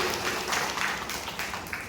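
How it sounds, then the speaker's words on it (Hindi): Applause from an audience at a leadership development training session, a steady spread of hand claps lasting about two seconds, moderately loud with no talking over it. "जोरदार तालियां सबके लिए"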